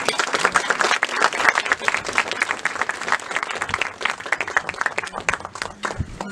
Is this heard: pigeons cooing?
no